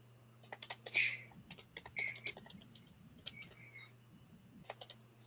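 Quiet clicking of keys on a computer keyboard comes in quick irregular bursts, with one brighter tap near the start, over a low steady background hum.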